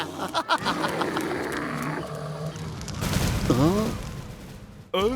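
A cartoon bear from a Motu Patlu episode lets out a loud, wavering roar in the middle of the clip, set among other cartoon voices and effects.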